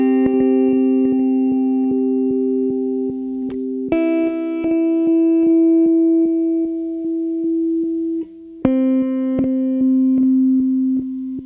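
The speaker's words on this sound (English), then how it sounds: "So this is the reverse setting on like a really slow" Clean electric guitar notes run through a Boss DD-20 Giga Delay on its reverse setting at a very slow tempo, each sustained tone followed by a stream of soft repeating echoes, with a few sharper attacks, alone and fairly quiet.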